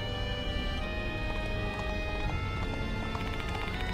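Horse hooves clop in a steady galloping rhythm within the Death Mark II video game, set at night on the Metro Expressway, heard over a dense, continuous layer of music and engine drone.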